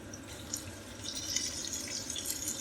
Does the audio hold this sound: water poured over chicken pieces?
yes